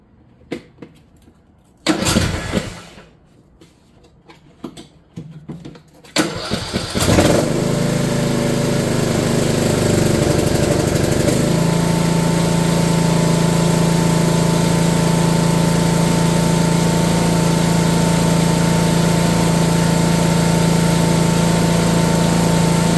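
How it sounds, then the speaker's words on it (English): A Troy-Bilt lawn mower with a Briggs and Stratton engine starts after a few quiet seconds of handling, then runs loud and steady at a constant idle, a droning hum holding on without a break. "After I replaced it, I turned the mower on"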